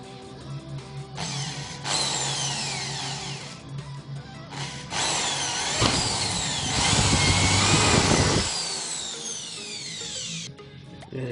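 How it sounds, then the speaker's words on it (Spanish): A power drill fitted with a fine bit bores holes while fitting universal side skirt extensions to a car, the loud whirring drill running in several bursts and pauses, close and alone. "Con una broca finita"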